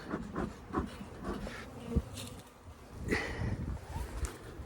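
Honeybees buzzing around a nucleus hive as smoke is puffed over them, a faint, uneven insect hum with scattered close wingbeat passes and small knocks.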